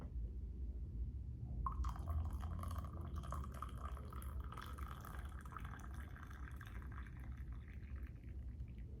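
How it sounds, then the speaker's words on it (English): Butterfly pea tea pours steadily into a cup, a continuous liquid splash and trickle with rising fill tones, close and alone, starting gently then running on for several seconds. "Pour my tea."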